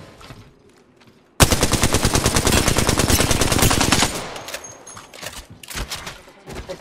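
In the video game Apex Legends, a sustained burst of rapid automatic gunfire erupts suddenly and loudly for about three seconds, then scattered shots and game sounds trail off.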